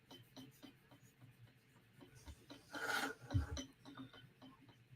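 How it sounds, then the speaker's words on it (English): A knife blade is drawn across a sharpening stone in faint, repeated rasping strokes, swelling into a louder scraping burst near the middle before easing back to soft rubbing. "Now we're actually sharpening."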